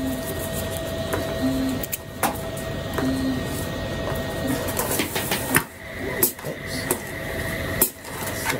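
A Hibar precision metering pump filling machine with a 2-ounce piston runs an accuracy test, giving steady mechanical whirring with repeated clicks and clunks, close and fairly loud throughout.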